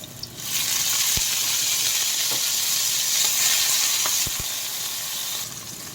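Tomatoes sizzle and fry in a hot pan, a continuous bright crackling hiss with a few soft clicks of a utensil, close and steady, no talking.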